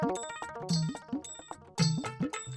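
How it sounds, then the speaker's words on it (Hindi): A phone ringing in a sitcom scene, a bright, bell-like tone repeating in short bursts with brief gaps between them, clear and fairly close with no talk over it. "घंटी बज रही है।"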